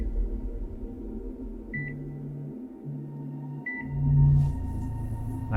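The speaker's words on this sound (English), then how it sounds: "So the first thing I do want to talk about is this constant beeping, as if David, the main character" Electronic beeps from the Cyberpunk Edgerunners trailer: a series of sustained low tones with short gaps, then a brighter longer tone, with faint high blips and a rising swell near the end, and no voices.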